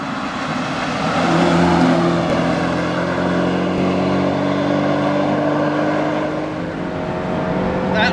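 A 1984 Alfa Romeo Giulietta 2.0L, rear-wheel drive, with the throttle held wide open through a corner. The engine drone is loud and sustained, swelling slightly in the middle and staying steady throughout with no talking.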